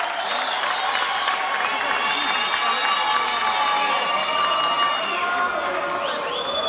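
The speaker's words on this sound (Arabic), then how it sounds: "تصفيقة حارة على حكيمة والزغريطة." A large studio audience at the Alhane Wa Chabab 2015 singing-contest final bursts into sustained, dense applause and cheering for a finalist, with high wavering ululation rising above the clapping throughout.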